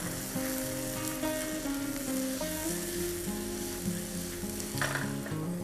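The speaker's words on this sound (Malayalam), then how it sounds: "ടൊമാറ്റോ ഇട്ട് നമുക്ക് നന്നായിട്ടൊന്ന് മിക്സ് ചെയ്തുകൊണ്ടിരിക്കാം." Onion and tomato frying in oil for a prawn roast, a steady close sizzle with stirring scrapes, while soft instrumental music plays in the background.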